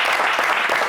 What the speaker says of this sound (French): Allez, on va applaudir Eric, bien sûr.